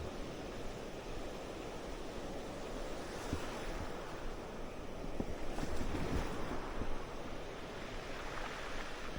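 Ocean waves wash and roll in a steady broad rush, swelling slightly in the middle, with some breeze and no talking.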